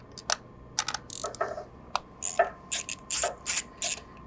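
A ratchet wrench loosens nuts on a TF-41 aircraft engine ignition system, giving a series of short, close, crisp clicking bursts in an uneven rhythm, heard on its own without speech.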